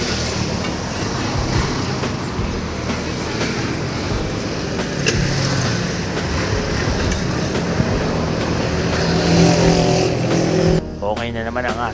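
A motorcycle taken out for a test ride, its engine running steadily and loud close by with road and wind noise throughout, the rumble cutting off sharply near the end.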